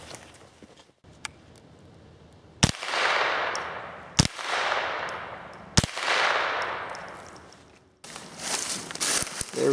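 Three sharp, loud shots from a Smith & Wesson M&P 15-22 rifle with a 16-inch barrel fired into wood boards at about 20 feet, spaced a couple of seconds apart, each trailing a long decaying echo outdoors.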